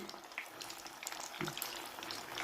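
Pieces are fried one at a time in hot oil on medium heat, giving a steady, quiet sizzle and crackle close by.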